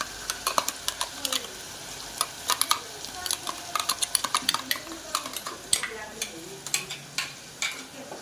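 A ground onion gravy with ginger, chili and garlic paste cooks in a pan, a soft sizzle under repeated spoon scrapes and light clinks of the utensil against the metal.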